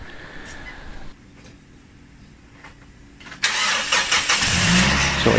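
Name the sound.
car engine starting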